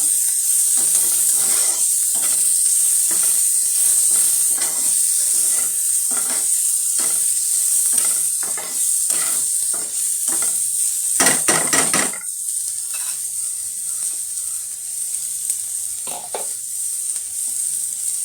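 Thick-cut onion sizzles steadily in oil in a pan, a bright continuous frying hiss with occasional clinks and stirring scrapes, close and without talk.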